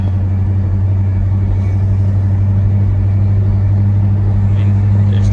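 A 1970 Chevrolet El Camino on a test drive, its engine a steady low rumble with road noise filling the cabin, loud and continuous throughout without any break.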